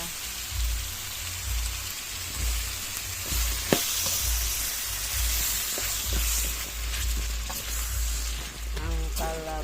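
Squash pieces going into a pot of pork and mixed vegetables in coconut milk, giving a steady bubbling sizzle close by, with a few small clinks and brief talk near the end.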